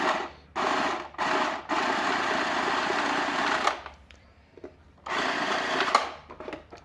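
An automatic card shuffler with a faulty feeder whirs loudly in several bursts, a steady mechanical buzz that starts and stops, including a long run in the middle, with quiet clicks between runs.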